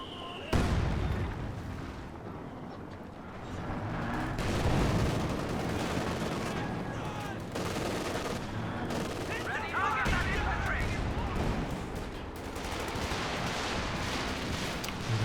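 Rapid machine gun bursts and scattered gunfire crackle through a Company of Heroes 2 battle, firing in repeated volleys with occasional heavier booms, mixed with game effects and commentary talk throughout.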